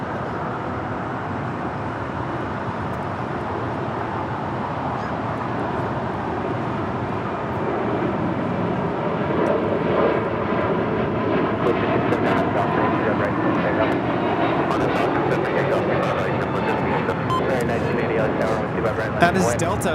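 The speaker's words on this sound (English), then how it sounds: "That is Delta 494 taking off to Detroit, Michigan on an A321neo" A Delta Airbus A321neo jet taking off from LAX, its engine roar building from a steady rumble into a louder, fuller thrust that holds as it climbs away, with voices talking over it.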